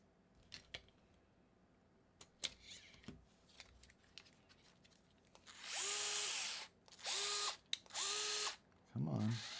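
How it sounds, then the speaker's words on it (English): Screw driven into an SCX10-3 RC crawler build with a small power driver, several short whirring bursts after some light clicks and handling, close and loud. "I can put this screw in"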